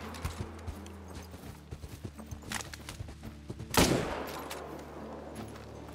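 A rifle shot in the hunting video game theHunter: Call of the Wild: one loud, sharp crack midway with a lingering tail, preceded by lighter scattered clicks and taps, with no talking.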